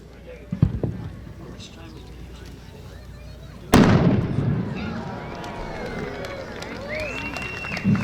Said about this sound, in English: she's made a 5-inch blue and gold glitter with purple pistol shell